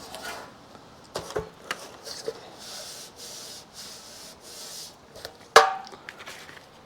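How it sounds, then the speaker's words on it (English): Hand sanding on the bodywork of a 1973 Suzuki TC125 motorcycle, soft rubbing strokes in short bursts with a few sharp knocks, fairly quiet and close. "Most of this gets sanded off."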